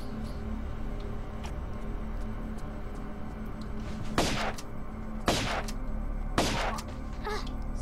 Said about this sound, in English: So I'm gonna opt for my shotgun just cause I can.